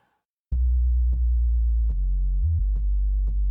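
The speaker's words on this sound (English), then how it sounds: "Let me turn off that compressor because you can hear it ducking a little bit" A deep, smooth synth sub bass tone plays sustained notes, with soft clicks marking each new note and a brief dip in level from compressor ducking partway through.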